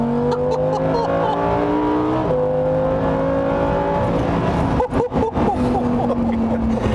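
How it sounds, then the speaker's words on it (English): Lamborghini Huracán Performante driving, its engine droning steadily from inside and shifting pitch through gear changes, with wind and road noise and a few bumps near the end. "And here we go, the Huracán Performante."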